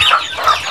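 Chickens cluck on a farm after getting loose, a close, busy run of short clucks lasting under a second with no voices.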